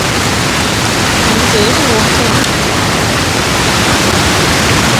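The Kappimala waterfall in Kannur roars in a dense, unbroken rush of water, loud and close from start to finish.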